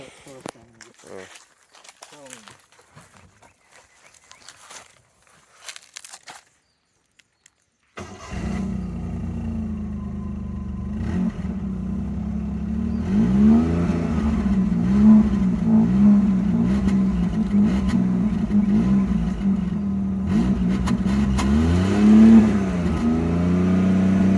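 After some scattered clicks and handling noises, a Maruti 800 engine starts and idles with a steady exhaust rumble, revving up and down as a voice talks over it.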